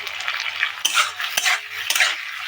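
A utensil scrapes and clinks against a pan while tomato sauce and soy sauce are stirred together, giving three or four sharp metal knocks over a soft continuous sizzle, close by, with no talking.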